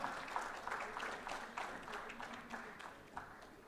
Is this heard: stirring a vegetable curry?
no